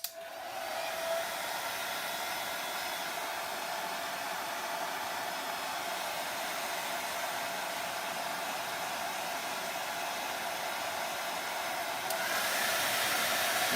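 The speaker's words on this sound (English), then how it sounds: "I'm going to dry this so you can see the paint flatten out a little bit." A hair dryer blows steadily to dry and flatten paint on a handmade Christmas ornament, a close, continuous broadband whoosh that holds level for about twelve seconds before rising slightly louder near the end, with no talking.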